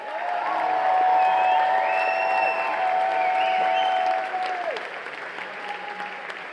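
An audience applauds the performance at a festive evening, a broad, loud wash of clapping mixed with sustained tones that fades after a few seconds.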